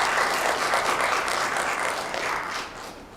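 An audience at a domestic violence awareness panel applauds a legal advocate, with sustained, even applause at moderate level that fades slightly toward the end.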